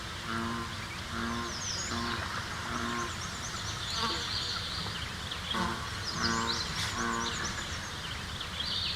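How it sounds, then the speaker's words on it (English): Bullfrog calling outdoors, repeated deep resonant drones in short bursts against a steady background of birdsong and ambient chatter of the environment. "And finally, bullfrog."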